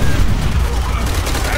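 Gunfire in the World War II shooter Call of Duty: World at War, a loud close fusillade of rapid shots with rumbling booms during a riverside battle.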